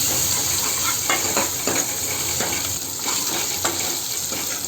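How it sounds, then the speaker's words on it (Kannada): Curry leaves fry in hot oil in a pan for bhindi sambar, a loud continuous sizzle with brief scraping stirs and light utensil clinks over it. "ಗೋಲ್ಡನ್ ಕಲರ್ ಬರೋವರೆಗೂ ಫ್ರೈ ಮಾಡ್ಕೊಳ್ಳಿ ಇದನ್ನು"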